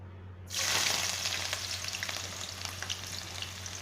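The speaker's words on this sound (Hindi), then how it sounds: "इसे मीडियम फ्लेम पे, लो टू मीडियम फ्लेम पे एकदम क्रिस्पी ब्राउनिश होने तक फ्राई कर लेंगे।" Vegetables for veg biryani frying in a pan over low to medium flame until crispy brown, a steady close sizzle that bursts in suddenly and keeps crackling, with occasional stirring and no talk.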